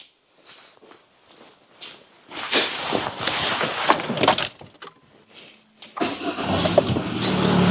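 Peugeot 207 engine running after a cold start: rustling and footstep-like bursts first, then a steady, close idle hum from the engine settles in for the last couple of seconds.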